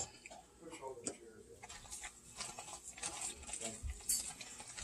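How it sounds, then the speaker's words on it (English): Non-instant oats stirred into a boiling no-bake cookie mixture of peanut butter and vanilla in a pot, heard as close, quiet, irregular scraping and thick sloshing strokes. "Stir that very carefully because that is super lava boiling"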